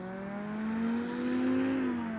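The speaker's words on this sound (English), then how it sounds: "That's that 300 horsepower Yamaha Apex snowmobile engine." STOL demonstration aircraft at EAA AirVenture powered by a 300 hp Yamaha Apex snowmobile engine, a loud tonal buzzing drone that rises and swells as it passes overhead, then eases slightly.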